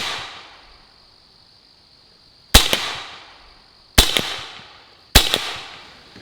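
Three sharp, loud Pistelle X-68 air gun shots fired at a target 20 yards away, each a crisp crack with a short ringing decay, spaced unevenly over a few seconds after a quiet lead-in.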